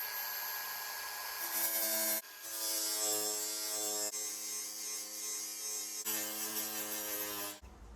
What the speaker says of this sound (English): I'm going to use the flapper disc on my grinder to take off the rivets from the strip that was down the side of the caravan